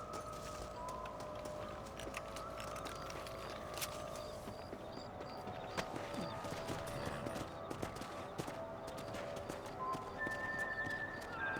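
Horse hooves clip-clop steadily in the Western game Red Dead Redemption, a rapid, continuous patter of riding horses over a bed of music with a few faint sharp cracks.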